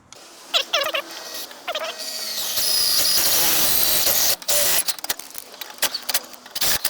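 A power drill whines in a sustained burst after a few short squeaky noises, then stops, followed by clatter and handling sounds.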